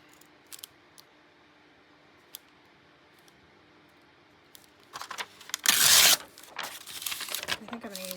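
Junk mail envelope paper is torn by hand in one short, sharp rip after a quiet stretch of faint handling, followed by soft rustling and crinkling of the paper.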